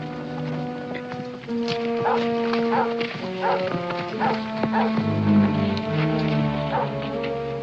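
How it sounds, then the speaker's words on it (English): Hunting dogs bay and bark intermittently while following a trail outdoors, a series of yelping calls over a low musical score and background murmur. "Now, that dog's on a trail. I can tell by his voice."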